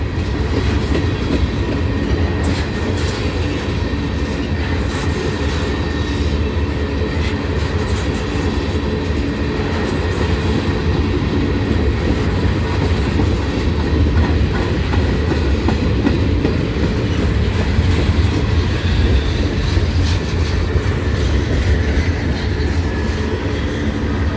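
A freight train climbing a hill rumbles past slowly, steadily and close, with a continuous heavy roar and faint rhythmic clatter of wheels over the rails throughout.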